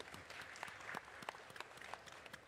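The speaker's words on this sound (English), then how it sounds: "Big round of applause for Vice President Kariuki" Faint, sparse clapping comes from an audience at a panel discussion honouring a vice president, with scattered individual claps rather than full applause, quiet and distant throughout.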